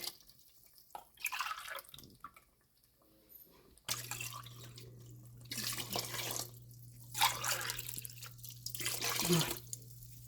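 Water runs and splashes into a cooking pot for tomato rice in a few pouring bursts, with a steady low hum beneath and a kitchen-close, moderately loud sound.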